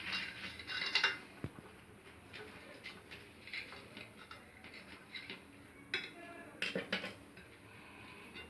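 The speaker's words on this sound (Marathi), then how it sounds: "आता मी हे तुम्हाला कट करून दाखवते।" Knife cutting through gas-toasted vegetable sandwiches, giving scattered soft crunches and clinks against a plate, fairly quiet and close with a few sharper taps.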